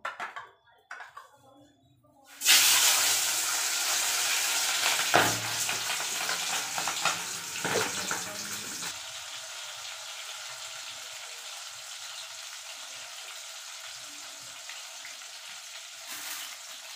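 Eggs dropped into hot oil in a pan set beside roasting eggplant sizzle loudly and steadily, a bright continuous crackle that starts abruptly and then settles to a softer, even hiss.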